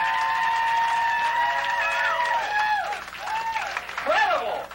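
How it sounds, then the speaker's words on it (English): Audience applause in a grill venue, a dense wash of clapping mixed with strong cheering and shouting voices over it, loud and close throughout. "Let's give him a big fucking round of applause."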